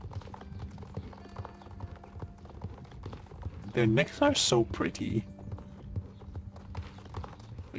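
An Andalusian horse in the Star Stable video game clip-clops steadily, with faint footfalls throughout and a louder, quicker burst of hoofbeats midway, while a person talks over it.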